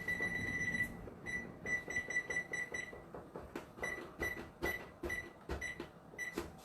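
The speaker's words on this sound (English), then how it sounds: "Set my timer." A kitchen oven timer is set while cooking spaghetti and meatballs, giving a run of short, high, evenly spaced electronic beeps, close and clear, over faint kitchen background noise.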